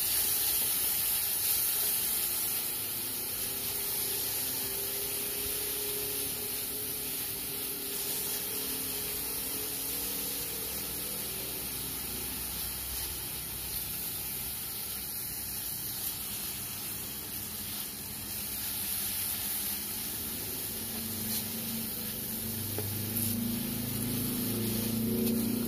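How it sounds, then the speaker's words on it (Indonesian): Garlic and shallots sauté in a pan for a baby-food recipe, giving a steady, close hiss of frying oil that runs evenly throughout with no talking. "Lalu tumis 3 siung bawang putih, 3 siung bawang merah."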